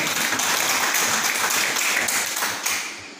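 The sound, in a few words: audience applauding for the farmers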